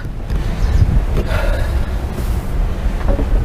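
Steady, roaring wind from a storm on a beach buffets the microphone, a broad low rumble that never lets up across the whole stretch.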